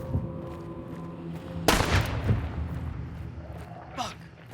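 Gunfire in the video game Hunt: Showdown: one loud, sharp shot rings out over steady game background noise, followed by fainter activity later on.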